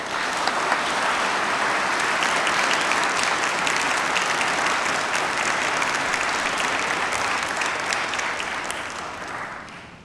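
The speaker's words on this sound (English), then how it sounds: "give a big round of applause to thank all those who have supported you" Standing graduands at a University of Manchester graduation ceremony give a long, loud round of applause, a dense wash of clapping from a large hall that stays steady and then fades slightly at the end.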